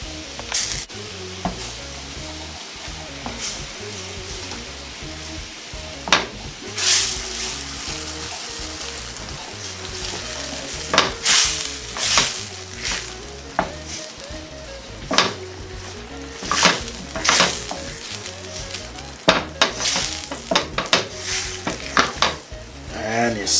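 Chicken in a pan sizzles steadily while a mustard and beer sauce is stirred through it, with a spoon or utensil scraping and clinking against the pan at irregular moments.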